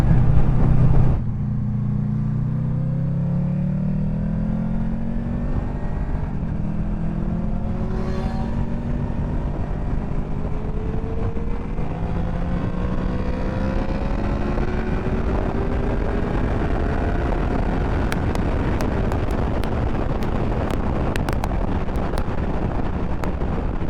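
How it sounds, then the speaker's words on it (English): A Honda VFR800F motorcycle ridden two-up on a sunny morning ride, its engine revving up through the gears into VTEC with rising, sweeping tones, steady wind roar rushing over the microphone throughout. "Nothing like a bit of VTEC in the morning to wake you up."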